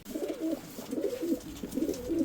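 Pigeons coo in soft, rolling phrases, several low throaty calls repeating at a steady pace, fairly close, with no talking.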